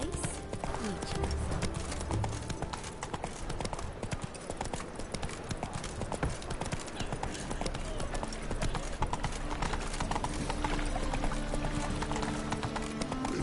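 Roach, the horse in The Witcher 3: Wild Hunt, gallops with loud, steady clip-clop hoofbeats throughout, layered over game music and ambience, with some voice in the mix.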